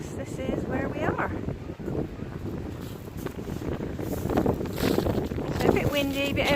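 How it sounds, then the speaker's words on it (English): Gusty wind on the Dorset coast buffets the microphone in a constant rumble, with people's voices heard talking through it. "So a bit windy, a bit overcast today."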